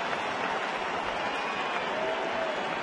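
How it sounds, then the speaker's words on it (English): Baseball stadium crowd applauding a player's diving effort, a steady wash of clapping and cheering at moderate distance without a break. "he'll get a round of applause right there for the effort"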